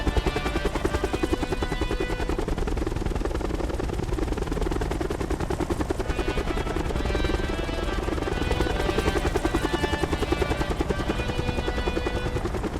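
Helicopter rotor chop in the Black Ops 4 Blackout video game, a steady loud drone with rapid gunfire-like beating running throughout and no talk.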